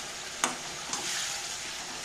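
Green chillies fry in oil and buttermilk in a pan with a steady close sizzle, while a spatula scrapes and stirs in a couple of distinct strokes.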